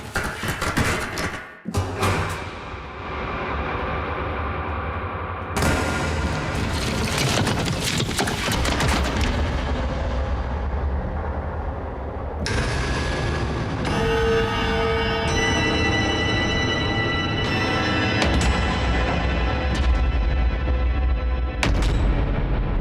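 Cinematic horror sound-design hits from a boutique horror instrument follow one after another: booming slams, deep sustained rumbles and metallic, ringing impacts, loud and dense throughout with no talk.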